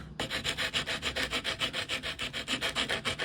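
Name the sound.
sanding wood with 100-grit sandpaper on a stick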